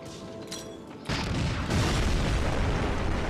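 Explosion in the Medal of Honor Frontline video game: after quieter game ambience, a sudden loud blast hits, followed by a sustained roaring rumble that swells again and stays loud.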